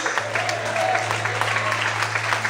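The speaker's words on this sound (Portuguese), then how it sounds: "Você consegue glorificar o Senhor e aplaudir a Ele em nome de Jesus." A church congregation applauds during a Portuguese-language sermon, steady dense clapping filling the space over a low sustained organ or keyboard hum.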